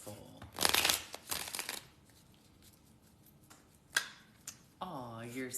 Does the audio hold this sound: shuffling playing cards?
yes